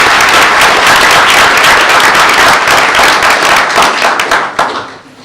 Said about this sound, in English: Let's give Patty a round of applause